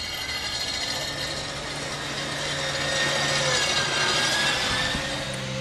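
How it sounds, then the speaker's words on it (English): An electric sand top dresser running on a golf course, giving a steady mechanical whir and rolling grind from its rollers, continuous and moderately loud with no talk. "Here's our new sand top dresser."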